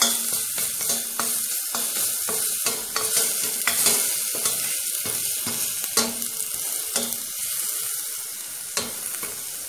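Crushed garlic frying in hot oil in a pot for Brazilian banana and turmeric soup. A busy, steady sizzle is broken by frequent sharp stirring scrapes and clicks of a spoon against the pan.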